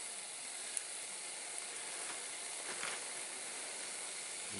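A steady, quiet hiss of water in a pot heating toward a boil on a wood-fired cube stove burning pine, with faint crackles and ticks scattered through it.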